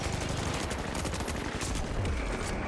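Minigun fire in a video game shooter, a close, rapid, continuous rattle of gunshots packed densely into a short burst.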